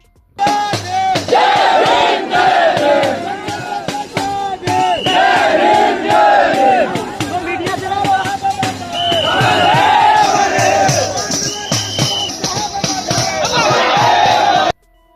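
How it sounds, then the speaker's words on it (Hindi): A large crowd of BSP party workers at a political rally in Lucknow chants slogans loudly and rhythmically, many voices shouting in unison in repeated bursts, close and dense, continuing for the whole stretch. "यहां कार्यकर्ताओं की भीड़ जोशीले नारे लगा रही है।"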